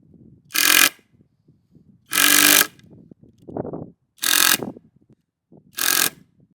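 A power driver drives screws in self-tap and then finish modes, producing four loud, close, whirring bursts of about half a second each, separated by quieter mechanical clicks and handling noise.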